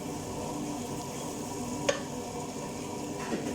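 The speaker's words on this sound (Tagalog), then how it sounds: "nagisa na yung sibuyas at bawang natin" Onion and garlic sauté in a pan with a soft, steady sizzle, and a single faint click of a utensil comes partway through.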